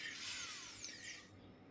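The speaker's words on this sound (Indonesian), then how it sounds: "Jadi ini kita menggunakan mode hammer drill ya di mesin bor yang kita gunakan." Power drill running in hammer mode against a cement roof tile, a steady harsh high-pitched whine and grinding rasp heard close and alone for under two seconds, fading toward the end.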